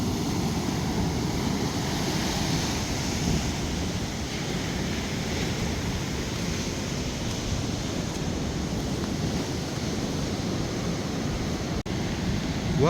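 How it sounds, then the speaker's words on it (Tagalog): Steady roar of big ocean waves in Bolinao, Pangasinan, breaking continuously close by with broad rushing noise and wind, no pauses and no talking. "ang lalaki ng alon dito"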